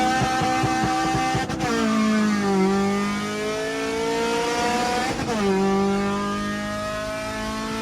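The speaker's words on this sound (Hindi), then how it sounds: "अब हमारी रेस होने लगी है EK हैच के साथ।" Race cars accelerate hard against a Honda EK hatch in a drag-style run, with engine notes climbing repeatedly through quick gear shifts and a loud, close, rasping roar throughout.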